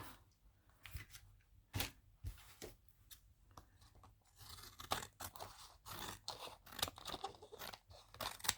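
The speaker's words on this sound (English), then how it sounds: "And let me cut that part off." Scissors snipping through paper in a mixed media book, with a series of small, close, quiet cuts and crisp rustles, with no talking.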